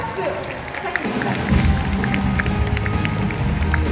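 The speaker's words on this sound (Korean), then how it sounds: "뜨거운 박수 부탁드립니다" An audience at a Korean kickoff event in a large convention hall claps loudly as people are called to the stage, with dense applause swelling after a quieter start and a low rumble and crowd noise underneath.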